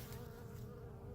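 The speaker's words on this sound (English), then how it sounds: "here's a couple bees" Honey bees buzz close by at the entrance of a backyard hive during a November inspection, a steady low droning hum lasting about a second, alone with no voices.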